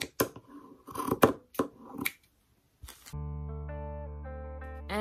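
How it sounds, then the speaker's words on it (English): Scissors cutting through a sock at the heel, a quick run of crisp snips over about two seconds, then a pause and a steady electronic hum. "I'm going to take my sock and I'm going to cut it right at the heel"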